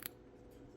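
Scissors make one quick, crisp snip through Aida cross-stitch fabric, quiet and close, followed by a faint second cut and soft room tone.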